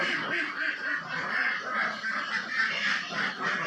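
A flock of ducks quacking in dense overlapping bursts, a busy continuous chatter at moderate distance with no clear talk over it.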